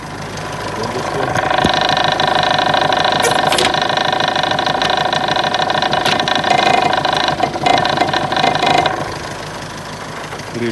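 Isuzu 4JJ1T turbo diesel truck engine with 138,000 km runs at a steady idle, a loud close continuous hum and clatter that holds for most of the clip before dropping off near the end, with people talking over it.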